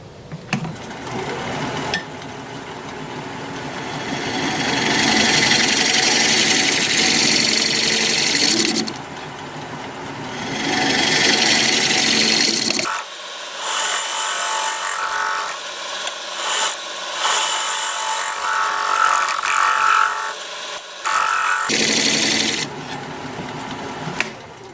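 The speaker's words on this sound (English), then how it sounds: "I'm going to get my scraper out and we'll scrape." Rough, continuous scraping of a lathe scraper against a spinning olive wood bowl, in long bursts broken by brief pauses, close and fairly loud.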